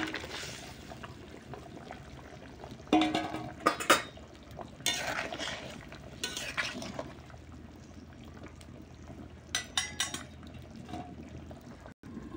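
Fish pieces go into a pot of simmering taro curry, with several sharp clinks and clatters of a utensil against the pot and soft liquid bubbling between them. The sounds are fairly quiet, with no talking.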